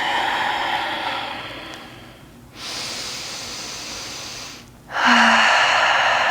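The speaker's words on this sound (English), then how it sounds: "Starting to slow down our breathing." Slow, deep breaths during a yoga session come close and clear, with a long inhale followed by steady airy exhales, each breath drawn out and separated by short pauses.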